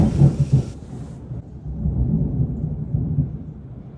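Distant thunder rolls low and muffled during a heavy downpour outside a woodworking shop, a few soft booms at the start, then a sustained low rumble.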